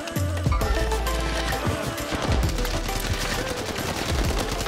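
A Sten submachine gun fires in Warzone at Fortune's Keep, rapid loud automatic bursts dense with rattling shots over game ambience.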